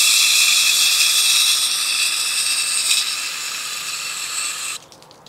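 Water sprayed onto a CFMOTO air filter gives a steady, loud hiss that runs alone for nearly five seconds, easing slightly before stopping abruptly near the end.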